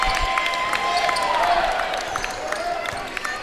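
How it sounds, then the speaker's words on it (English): Fans in the stands at a high school varsity boys basketball game applaud in a loud, continuous wash, with crowd noise and voices mixed in. "we'll get a thunderous applause from the stands"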